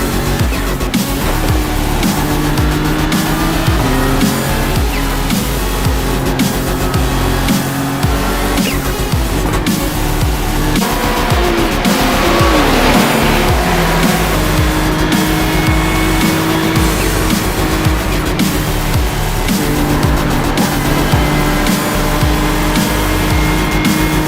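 Race car at Suzuka in the iRacing video game, a loud continuous engine drone that rises and falls through gear changes, with tire squeal as it corners and no talk over it.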